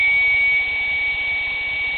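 GWS EDF30 electric ducted fan motor running at wide open throttle with no load, giving a steady, close, high-pitched whine with a constant tone and no pauses.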